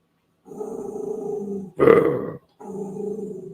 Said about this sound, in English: Did you guys hear him growl at me?